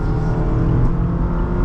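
A 2023 Mazda Miata MX-5 convertible's engine drones steadily while driving, close and fairly loud, a constant low hum with road rumble and no talking.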